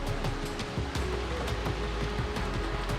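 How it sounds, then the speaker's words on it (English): A waterfall at Maredumilli in Andhra Pradesh gives a steady, dense roar of falling water that stays close and even throughout, with no voices over it. "That is the waterfalls."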